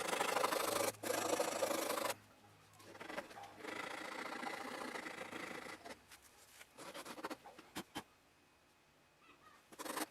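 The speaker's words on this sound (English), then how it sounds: "just wrap some sandpaper around a round piece of wood" Sandpaper wrapped around a round piece of wood rubs back and forth over a tube tester meter part in bursts of steady scratchy strokes, with pauses between them and a few light taps near the end.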